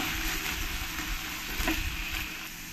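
Onion paste and spices for chicken curry fry steadily in a pan with a continuous close sizzle and a brief stirring scrape partway through; no talking.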